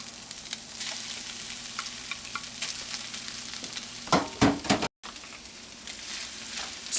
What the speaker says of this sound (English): So next we're going to actually add our vegan meat to our sauteed onions. Stir it in there.